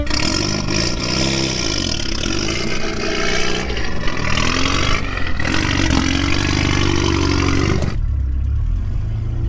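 A 1990 Plymouth Sundance turbo engine runs loud and close, idling with a rough clattering texture and revving in surges before cutting to a quieter tail near the end.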